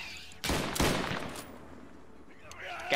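Gunshots in a modded multiplayer shooter game, two sharp loud blasts about a third of a second apart followed by a ringing tail, with a faint further shot near the end.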